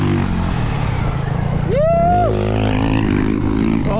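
A Stark Varg electric dirt bike hums steadily and close while being ridden, its motor tone rising briefly midway, as the rider lets out a sudden vocal exclamation over it.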